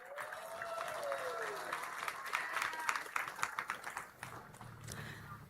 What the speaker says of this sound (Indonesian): Boleh kami mohon tepuk tangan yang lebih meriah lagi.